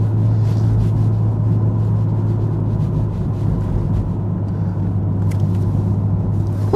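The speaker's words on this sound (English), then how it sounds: "The GTR's going." Nissan GTR driving on a road, a steady loud low engine drone and road rumble heard from inside the car, continuous without voices.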